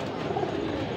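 Golden pigeons for sale cooing in a low, continuous murmur close by, with soft overlapping calls and a faint voice in the background.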